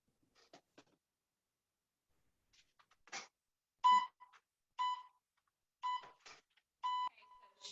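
A workout interval timer beeps during a quarantine-era functional movement and boxing class: short electronic tones, several sharp beeps spaced about a second apart, fairly close and clear, with faint movement sounds between them.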